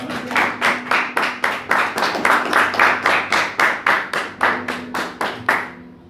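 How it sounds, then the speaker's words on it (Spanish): A church congregation claps together in a steady, even rhythm of about twenty claps, loud and close, sustained for several seconds and fading at the end. "Ya me dan un aplauso al Señor"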